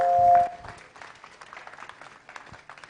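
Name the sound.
audience applause, clapping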